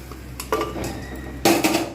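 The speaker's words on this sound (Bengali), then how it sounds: "এইবার আমি এর মধ্যে কাবলি চানা যেটা আমি বয়েল করে রেখে দিয়েছিলাম প্রেশারে আমি ওইটা পুরোপুরিভাবে ঢেলে দিলাম" Boiled kabuli chana, pressure-cooked beforehand, tipped from a vessel into a pan of cooked-down spices for a Bengali chickpea curry, giving two short bursts of clattering and sliding with metal scraping, close by with no talking.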